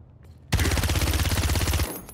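Rapid automatic weapon fire from a Paladins character, a dense stream of quick shots lasting over a second after a short quiet lead-in, loud and close with a steady pulsing rhythm.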